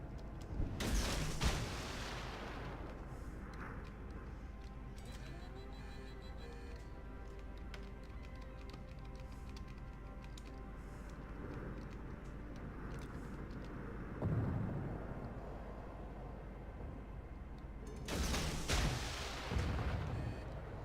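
Naval gunfire from the World of Warships video game, heavy booming salvos at the start and near the end over a continuous low engine-like drone, with a softer thud in between.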